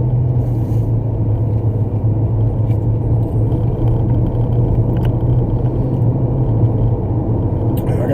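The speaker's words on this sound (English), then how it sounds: "I gotta figure out why my car shakes like that." Car shaking while driving at speed with a possible suspension or transmission problem, giving a loud, constant low rumble and road roar from inside the cabin, steady throughout.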